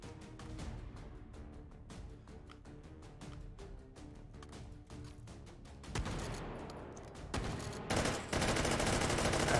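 QBZ assault rifle fire in a video game crackles in rapid repeated bursts, steady at first and then swelling into a denser, louder barrage of overlapping shots toward the end.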